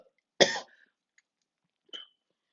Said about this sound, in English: I'm so sorry about this coughing.